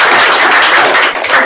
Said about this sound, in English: so big round of applause for you guys